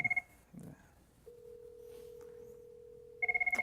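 A 7900 series desk phone rings with short trilling electronic bursts at the start and again at the end, separated by a long steady tone, all faint and clean with no talking.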